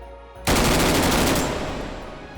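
Fast full-auto gunfire in the H3VR virtual reality shooter, a dense unbroken burst that starts abruptly, holds loud for about a second, then tapers off in a fading tail.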